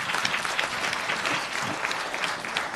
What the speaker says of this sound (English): Okay, big round of applause for Christy.